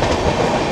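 The Amaravati Express rolls through Balugaon station with a loud, dense rumble and rattle of wheels on track, heard close from aboard the train, with no talking.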